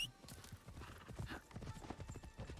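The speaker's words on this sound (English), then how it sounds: "We're just gonna ride on horse." Horse hooves clip-clop in a steady, close rhythm as a rider travels on horseback in Assassin's Creed Shadows.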